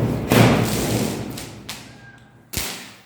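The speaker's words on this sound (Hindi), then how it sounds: "ये ऐसे पटाखे फोड़ते हैं।" Diwali firecrackers burst outdoors in three separate booms: a loud first blast with a long rumbling tail, a lighter pop, then another sharp bang.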